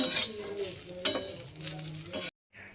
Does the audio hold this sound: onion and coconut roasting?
yes